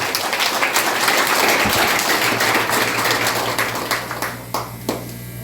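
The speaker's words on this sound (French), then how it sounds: "Et je vous demande de les applaudir chaleureusement." An audience at a graduation ceremony claps warmly, dense steady applause that holds at full strength and then thins out toward the end.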